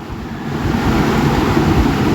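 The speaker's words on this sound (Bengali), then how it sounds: "মাংসটা দিয়ে দিলাম মাংসটা দিয়ে একটু নেড়ে" Meat goes into a hot pan for Bengali kosha mangsho and is stirred, raising a loud, steady, close sizzling hiss that swells slightly and holds without talk.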